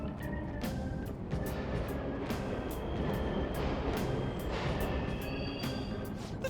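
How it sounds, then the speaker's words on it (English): Subway trains running in the Persona 5 Royal video game, a steady rumbling roar with repeated rhythmic clacks and screeches throughout, loud and with no voices. "The trains are totally running!"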